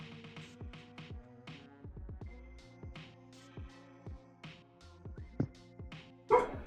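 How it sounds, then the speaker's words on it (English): A dog barks repeatedly in sharp, evenly spaced yips over a steady tonal hum, moderately loud, with one louder bark near the end. "Dog is barking."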